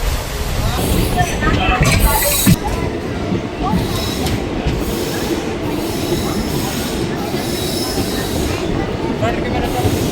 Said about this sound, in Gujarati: મવાના રેલવે સ્ટેશનમાં એન્ટ્રી લઈ લીધી છે